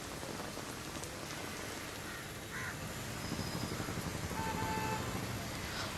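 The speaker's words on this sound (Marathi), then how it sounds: "पावसाची रिपरिप सुरूच आहे" Steady monsoon drizzle pattering on surfaces in Dadar, Mumbai, a continuous soft hiss of rain with crows cawing now and then in the distance.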